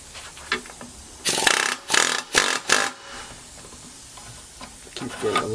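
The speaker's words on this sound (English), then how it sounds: "can I get some lube sprayed down in there, and that'll help it slide out of there some more" Spray lubricant hisses onto an upper control arm bushing of a 1975 to late-1980s GM car, arriving as four short, close bursts in quick succession between quieter workshop handling noises.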